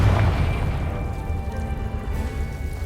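A Confringo fire spell blasts in the Hogwarts Legacy video game, giving a loud boomy burst at the start that rolls off into a low, rumbling tail with no talk over it.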